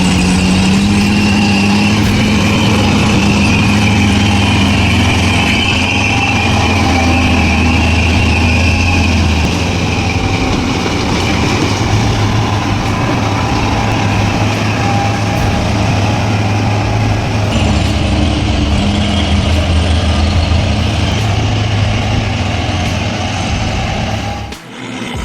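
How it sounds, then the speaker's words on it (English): A rescue tractor's engine roars steadily under heavy load as it drags a stuck log truck along a steel cable, a loud, continuous rumble that holds for the whole stretch before easing at the very end. "with a mighty roar, the tractor began to drag the giant mass of metal and wood"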